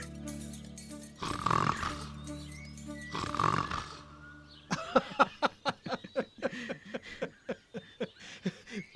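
A voice makes two long, rough growling breaths, then a rapid series of short grunting pulses, like a beast snarling, imitated closely and loudly.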